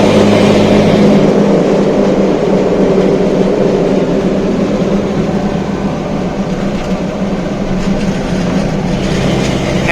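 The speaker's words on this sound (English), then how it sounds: "Now gonna pull it to high RPM." Engine of a restored 1971 series 1 Datsun 240Z held at high RPM, a loud steady drone with strong low harmonics that stays nearly constant and close throughout, with no talking.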